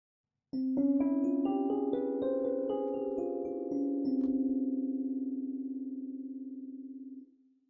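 A synthesized tone plays a rising microtonal scale, notes one after another, each sustaining and overlapping, ending on a long held note that fades.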